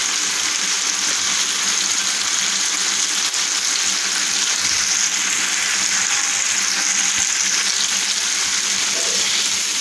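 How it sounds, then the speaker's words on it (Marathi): Fish coated in rava and masala frying in oil on a flat tawa, a steady, dense sizzle that stays loud and close throughout without pauses or talking. "तेल सुटायला लागलं आहे"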